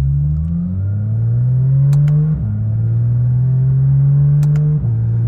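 A Porsche 911 GT3 RS engine pulls hard on a public road, loud steady rising drone that climbs in pitch, briefly drops at each gear change, then climbs again, heard from inside the car.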